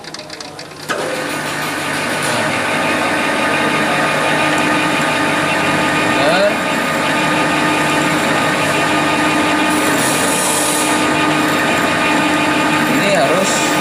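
Steady drill whine as a bit bores a hole into a metal hinge shaft, a continuous loud mechanical drone running the whole time with a brief start at the beginning.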